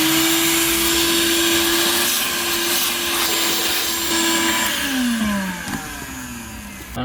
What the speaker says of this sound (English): I am going to vacuum that out, and then at that point, then I'll put it back together.